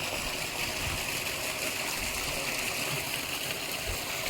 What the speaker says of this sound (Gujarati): આ મોટર ચાલુ છે હજુ.